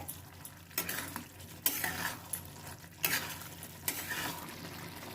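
A spoon stirs arrowroot slurry into chilli chicken gravy in a pan, with a soft sizzle underneath and several sharp scraping strokes and utensil clinks spaced about a second apart.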